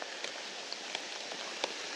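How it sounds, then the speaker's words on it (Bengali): Rain falling outdoors on a mountain ridge trek, a steady soft hiss of drops with a few light taps standing out, fairly faint and even, no voices. "জিপিএস ম্যান এখন বৃষ্টি পড়তেছে টুকিটাকি ভালোই"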